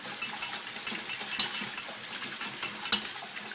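A whisk beats bechamel sauce quickly in a pan, making rapid, close metallic ticking and scraping strokes over a light bubbling hiss.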